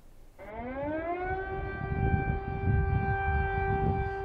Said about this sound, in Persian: آژیر خطر حمله هوایی در خیابان‌های سوت و کور کیف